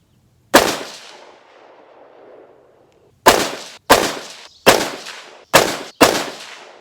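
Rifle shots from a Springfield Edge ATC Elite AR at a shooting range: one loud crack with a fading echo, then after a pause five more sharp reports in quick succession, each close and loud.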